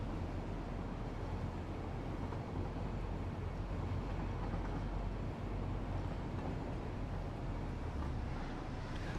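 Cargo train at a train station in the video game Satisfactory, giving a continuous dense rumbling roar with steady loudness throughout and no voices.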